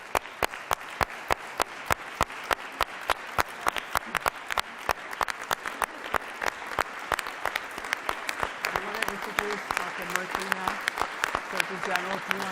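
An audience at a talk on mental health and addiction claps in a quick, even rhythm of crisp individual claps that keeps going. A voice speaks over the clapping near the end.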